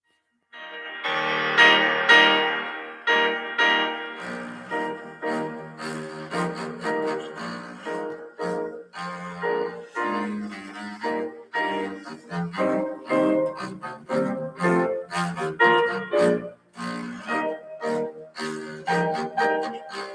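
An orchestral piece portraying an elephant plays on its own, with low strings and winds carrying a lumbering, heavy melody that rises and falls.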